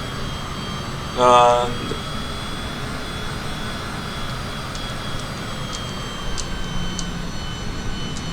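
Cessna Citation CJ4 jet engines in Microsoft Flight Simulator hum as a steady, moderate drone throughout, with a brief louder swell early on and a voice speaking over it.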